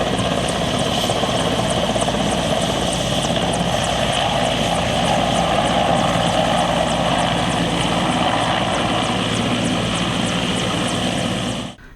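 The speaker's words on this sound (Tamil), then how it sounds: "முன்னதாக ஹெலிபேட் தளத்தில் ஹெலிகாப்டரை இறக்கி சோதனை செய்யப்பட்டது." A helicopter sets down on a helipad during a test landing, its steady loud rotor and engine roar continuous and close throughout, ending abruptly.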